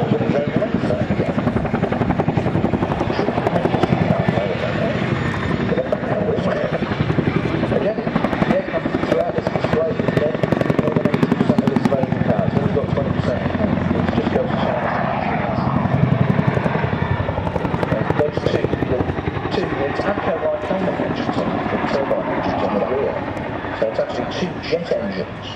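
A Chinook twin-rotor helicopter flies a display at the Duxford Airshow, its loud, continuous rotor thrum and turbine roar steady throughout, with a voice talking over the noise.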